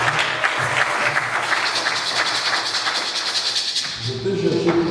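A church congregation at a prophetic vigil applauds together in a dense, fairly loud wash of clapping, with voices mixed in, before it thins out near the end.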